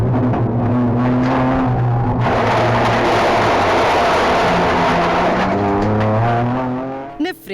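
Kia Picanto GT Cup race cars lapping Jerez circuit in September 2019, loud sustained engine drone with shifting pitch as cars pass close by, continuous throughout and fading slightly at the end.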